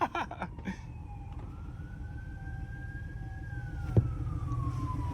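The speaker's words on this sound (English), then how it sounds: "They coming for you, bro?" A police siren wails in the distance, rising and falling slowly over steady low traffic rumble, with a brief sharp knock near the end.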